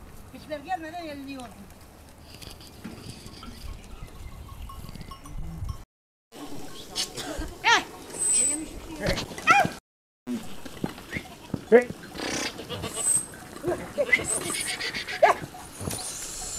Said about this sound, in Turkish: Burada da şimdi oğlaklarla keçiler ayrılıyor.